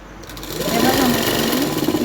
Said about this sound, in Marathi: आपण ब्लाऊजच्या दुसऱ्या बाजूने फिटिंगच्या टिपा मारून घेऊयात